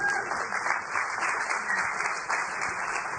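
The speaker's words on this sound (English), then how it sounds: "Give him a round of applause." Lively audience applause at a branding talk as a volunteer comes onstage, a dense even wash of clapping with occasional whoops, holding steady throughout.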